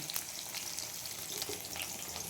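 Onions sizzling in hot oil in a pan for a mixed vegetable curry, a steady close crackling hiss throughout.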